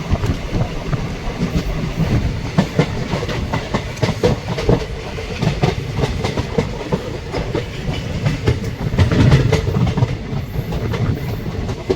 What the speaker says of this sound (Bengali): ট্রেন আজিমগঞ্জ স্টেশনে এন্টার করছে